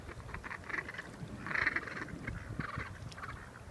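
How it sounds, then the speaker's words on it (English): Ducks call with a few nasal quacks around a nature park pond, fairly faint and set against outdoor background noise. "Here come some ducks."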